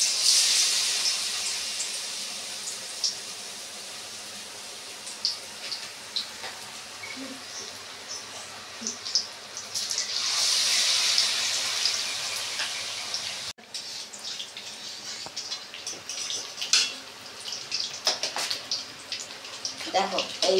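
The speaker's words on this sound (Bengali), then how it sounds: "দেখো এবার আমি তেলের মধ্যে ছাড়ছি।" Battered stuffed fresh pumpkin leaves slip one by one into hot frying oil, with a hissing sizzle that swells and fades and scattered spatters, while someone talks over it.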